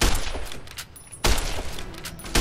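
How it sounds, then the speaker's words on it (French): Two loud, sharp bolt-action sniper rifle shots in the video game Fallout New Vegas, each with a ringing tail, the second following about a second after the first, close and alone without talk. "Allez, combat de snipe. Combat de fusil à verrou."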